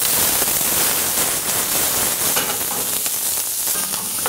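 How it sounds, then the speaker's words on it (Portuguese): Chopped onion sizzles in a little olive oil in a frying pan, a loud steady hiss and crackle throughout with no talk. "numa frigideira, um pouquinho de azeite. Jogamos a cebola."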